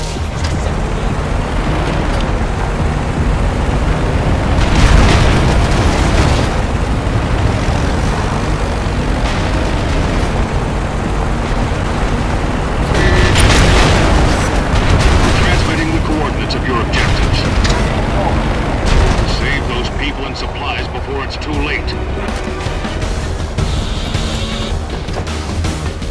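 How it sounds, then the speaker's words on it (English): Rumbling artillery explosions and booms in the video game Red Faction Guerrilla, continuous and heavy throughout, with louder swells around the middle, while a voice talks over the barrage. "EDF artillery is firing on Dust as we speak."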